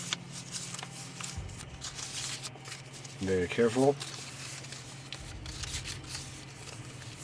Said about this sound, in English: We'll give it another shuffle.